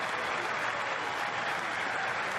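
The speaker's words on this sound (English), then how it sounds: "Big round of applause here from the fans in Norfolk, Virginia." Football fans in a stadium in Norfolk, Virginia, applaud at an Old Dominion home game, a dense continuous roar of clapping and crowd noise, loud and steady throughout.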